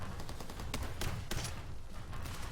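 Rifle gunfire from a video game as bugs are shot, with rapid, loud, closely spaced shots in irregular bursts.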